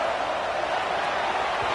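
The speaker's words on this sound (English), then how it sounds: "this crowd is fired up. Listen to this noise here." Football stadium crowd roaring steadily, a dense, continuous wash of distant cheering with no distinct breaks.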